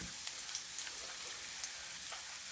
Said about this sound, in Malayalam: അരിഞ്ഞു വെച്ചിരിക്കുന്ന ഉള്ളി ഇട്ട് കൊടുക്കാം